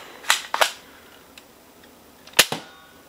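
Dart Tag StrikeFire Nerf blaster fires foam darts close by, giving four sharp pops: two in quick succession, a pause, then two more, in an otherwise quiet room.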